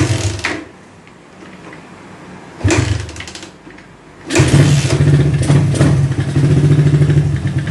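A motorcycle engine is revved during carburetor tuning: a couple of short, sputtering bursts, then it catches and settles into a loud, steady, throbbing idle close by.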